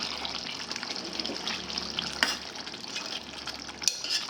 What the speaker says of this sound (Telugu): ఈ ఫ్లేవర్ అంతా ఈ ముక్కలకు పట్టేలాగా కలపండి